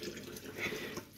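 Water runs from a tap in a short, steady burst of broadband splashing noise at moderate level, with no talking.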